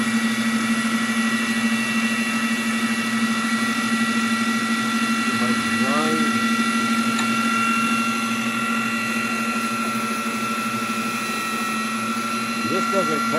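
A wet lapidary saw grinds rock with water spraying on the blade, a continuous steady motor hum and grinding whine at close range throughout, with someone speaking briefly over it.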